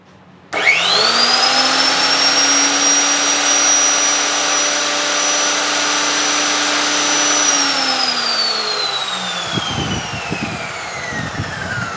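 An NRT PRO 2490 VB metal cut-off saw spins up and runs loud and steady with a high whine, then winds down near the end.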